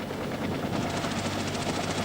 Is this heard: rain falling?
no